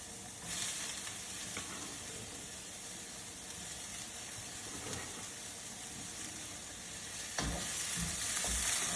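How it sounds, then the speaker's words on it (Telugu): Carrot and capsicum fry in a pan for pav bhaji, a steady close sizzle running throughout with occasional scraping stirs, growing slightly louder near the end. "ఇప్పుడు మనం క్యారెట్, తర్వాత క్యాప్సికమ్ ఈ రెండింటిని వేసుకొని వేయించుకున్నాము"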